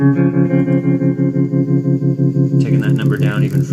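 A sustained guitar chord pulses in a steady, choppy on-off rhythm from a square-wave tremolo on a BOSS DD-500 delay pedal, with the tone brightening and getting grittier near the end.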